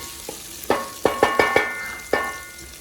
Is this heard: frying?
yes